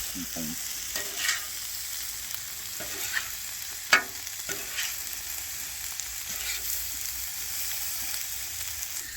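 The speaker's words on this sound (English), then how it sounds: "the veggies are starting to show a little color, and we'll be giving them another flip" Mixed vegetables sizzle steadily on a hot fajita griddle, with a few sharp scraping and clanking hits as a spatula flips them, the broad hiss continuous underneath.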